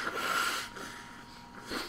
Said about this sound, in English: that's me blowing my nose, folks.